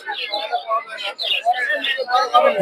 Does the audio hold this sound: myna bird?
yes